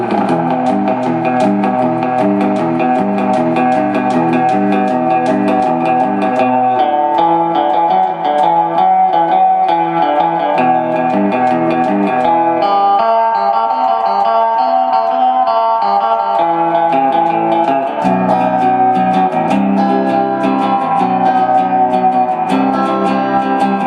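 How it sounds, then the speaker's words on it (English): Electric guitar, a Fender Stratocaster, playing sustained surf chords through a Valco Supro Big Star S6651 amp, with a wide reverb tail and a slightly distorted edge, steady and fairly loud with no talking. "let's turn up the reverb and see if this amp will serve for us."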